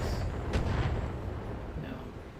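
Defensive turrets fire in the Battletech video game, sending a few heavy booming shots over a rumbling, noisy battlefield background.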